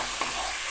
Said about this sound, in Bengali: আমি আদা রসুন যে পেস্টটা করে রেখেছিলাম এটা দিয়ে দেব পেঁয়াজের সাথে, পেঁয়াজের সাথে এটাও ভালো ভাজা হয়ে যাবে।